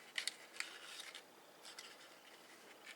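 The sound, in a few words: cutting out a paper cupcake wrapper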